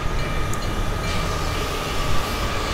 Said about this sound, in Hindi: ये ब्रेक्स लगा रहा है वैपसान